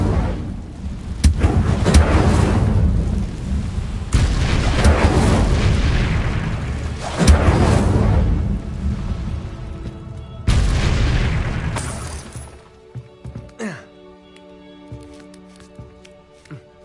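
Incendio fire spell blasts in Hogwarts Legacy on PS5 hit as loud, booming whooshes, four heavy bursts in a row that swell and fade, then give way to quieter game effects and clinks.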